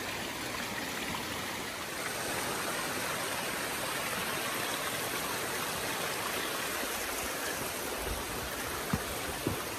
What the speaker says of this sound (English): We're not crossing that creek, we're crossing a little tributary of it.